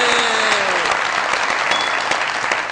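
Loud, dense applause from a comedy show studio audience cheering a motorcycle winner, continuous throughout with a brief voice at the start.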